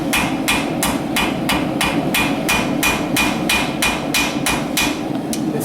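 A farrier hammers the outside heel of a horseshoe to box it, striking loud, evenly spaced ringing blows on steel, about a dozen in quick succession, close and with no talking.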